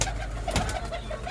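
Pigeons coo steadily at backyard coops holding five or six lofts, a soft repeated murmur of several birds close by, with no voices over it.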